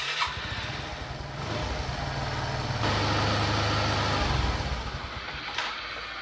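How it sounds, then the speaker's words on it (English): A Suzuki Access scooter with a carburetor idle fault runs close by, its small single-cylinder engine chugging unevenly, swelling briefly, then dying away and cutting out, leaving a steady background hiss. "when I put the bike on idling, then it doesn't stay on, it turns off directly."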